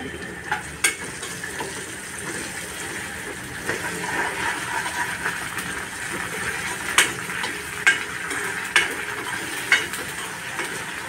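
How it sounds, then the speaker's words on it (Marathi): Ginger-garlic paste sautés in a pan over softened tomato while making soya chunk bhaji, giving a steady low sizzle with a few sharp clicks of a spoon stirring against the pan. "आलं लसणाची पेस्ट थोडासा कच्चापणा जाऊ दे, मी थोडंसं परतून घेते।"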